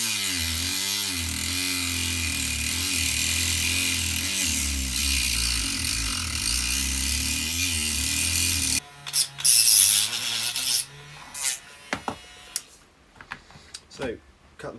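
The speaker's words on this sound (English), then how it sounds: "I called it a Dremel, it's not a Dremel, it's just a rotary tool" A cheap rotary tool cuts through a telescopic overflow pipe clamped in a vise, a loud continuous whining grind for several seconds that stops abruptly, followed by clatter and someone talking.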